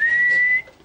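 A single clear whistled tone held steadily for just over half a second, then cut off, heard alone in a quiet space during a nighttime ghost-hunting vigil.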